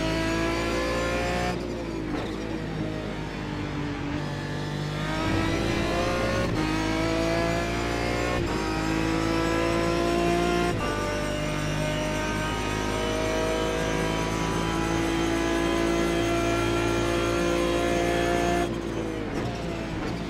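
A GT1 Aston Martin race car at Monza in the iRacing sim roars steadily at close range, its engine revving high and loud through gear shifts, with brief dips and climbs and no pauses.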